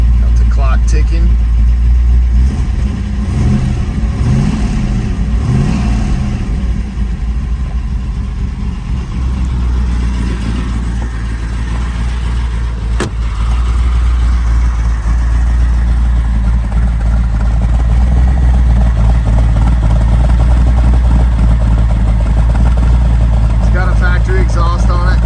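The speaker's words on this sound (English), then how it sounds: "Exhaust on it. It's got a nice exhaust note, not too loud. 428 Cobra jet sounds great." A fully restored 1968 Shelby GT500KR with a 428 Cobra Jet V8 and four-speed idles close by, its deep exhaust rumbling steadily with a few mild blips while someone talks over it.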